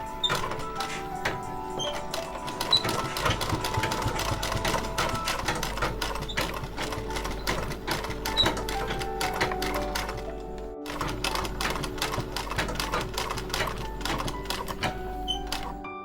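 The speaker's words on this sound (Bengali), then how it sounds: "এবারে এই 2 সাইডে সেলাই করে নেব।" A sewing machine runs steadily as it stitches the two sides of a small doll dress, a continuous close mechanical whir with dense rapid needle clatter and a brief pause partway through.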